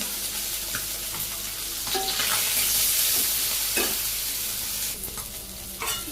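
Fish, shing catfish, frying in hot oil in a pan with onions just added: a loud, steady sizzle with occasional scraping stirs, no voices.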